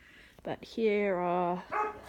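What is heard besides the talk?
dog barking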